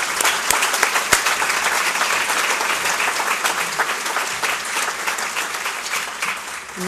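A room full of people applauds the 2013 winners at a Small Business of the Year awards event. The clapping is dense, loud and steady for about seven seconds, with no pause.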